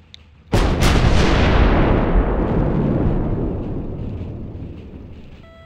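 Artillery fire in the World War II strategy game Sudden Strike, a sudden loud booming blast followed by a second shot and a long rumbling decay.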